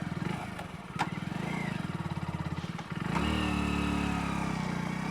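A Hero Splendor Plus Xtec motorcycle engine, 2022 model, putters and clicks briefly, then catches and settles into a steady, close idle that runs on to the end.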